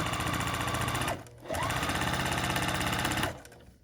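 Close, loud sewing machine stitching a Mary block for a Betsy quilt, running fast and steady with a brief pause near the one-second mark before it carries on.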